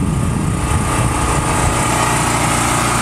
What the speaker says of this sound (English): I would show the running of the generator. I just started it.